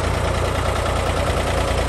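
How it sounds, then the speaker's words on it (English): A 1960 Porsche three-cylinder diesel tractor engine idles steadily, with a dense low throb and broadband clatter that stay constant and close throughout. "the 1960 Porsche three-cylinder tractor"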